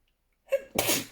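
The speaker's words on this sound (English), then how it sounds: "I'm going to sneeze" A single sharp human sneeze, a quick sharp intake of breath and then an explosive, hissing burst of air.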